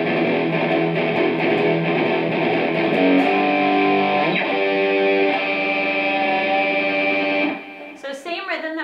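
Bright, ringing guitar harmonics sustain in a chiming, bell-like wash with a dreamy shimmer, then fade as a few plucked notes follow.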